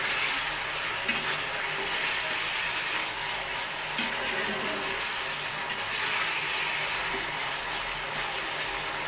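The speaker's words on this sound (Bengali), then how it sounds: "এবার আমি দিয়ে দেবো 1 চামচ মতন ভিনিগার।" Chilli baby corn sizzles steadily in a hot pan as vinegar goes in, an even close frying hiss broken by occasional light stirring clicks and scrapes.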